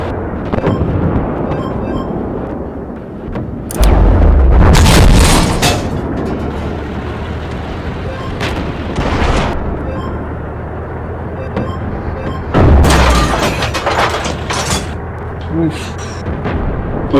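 Tank combat in the video game Armored Warfare, with two big bursts of artillery shells and gunfire slamming into a tank several seconds apart over a steady rumble of engines and battle noise.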